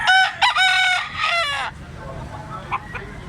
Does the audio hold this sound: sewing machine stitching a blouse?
no